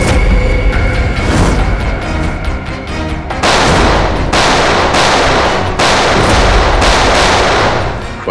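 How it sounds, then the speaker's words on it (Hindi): Rapid, loud gunfire at a firing range, with dense bursts of overlapping shots and booming reports that run continuously, close and alone without voices. "Firing range."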